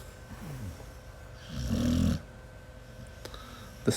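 A pet dog, a female named Lulu lying on someone's lap, gives a single drawn-out snoring breath in the middle, with faint rasps earlier and a brief snort near the end, all close and quiet.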